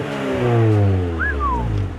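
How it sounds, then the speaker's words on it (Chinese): Honda Integra DB8 GSR with a B18C engine cranking and catching, a close loud rising engine note that swells then settles into idle, with a brief high whine over it. "来，我们来打着这一颗 B18CE， 看一下它声音。"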